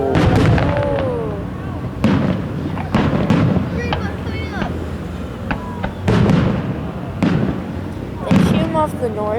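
Fireworks at a July 4th display in South Haven, Michigan, launched from a barge, burst in a dense series of loud booms and crackles, while spectators chatter and exclaim throughout.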